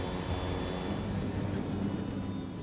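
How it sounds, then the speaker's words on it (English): Airliner jet engines spool down as thrust is pulled back on a landing approach, a steady loud roar with a broad low rumble and a faint whine holding throughout, no voices. "The captain pulls the thrust levers back to reduce power."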